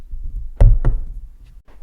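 Two sharp, close impacts in quick succession, a hand clap for podcast audio sync, followed by a brief quiet rustle.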